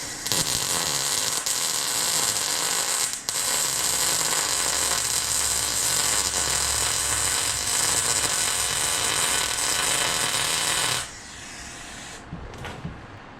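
A new home welder tack welds steel for a DIY weight bracket cart for a Kubota BX tractor, a loud continuous buzzing crackle for about eleven seconds that then stops, leaving a quiet room.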